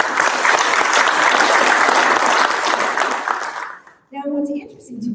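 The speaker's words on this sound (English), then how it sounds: "Give them a hand of applause." Audience at a city's 35th anniversary celebration clapping loudly and steadily for about four seconds, then the applause fades out and a voice starts speaking.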